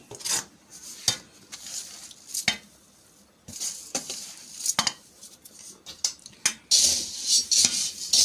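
Cardamom and fennel powder stirred in a pan before jaggery goes in, a spoon scraping and clinking against the metal in irregular close strokes, with a faint sizzle rising toward the end.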